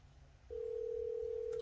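A steady dial tone from a phone call placed on a Microsoft Surface Duo starts abruptly and holds at a constant pitch, clear and close over a faint background hum.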